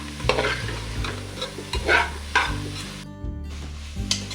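Pulav ingredients fry in a pan while being stirred, with repeated scraping strokes of a spoon over a soft sizzle, close up, in an irregular rhythm with a brief pause near the end.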